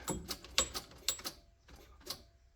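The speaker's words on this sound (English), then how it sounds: "I can hear the fuel pump relay, or the ignition relay clicking." A Jeep's fuel pump or ignition relay clicking during an engine revival, sharp irregular ticks and clacks spaced through a short stretch, fairly quiet and close with no talking.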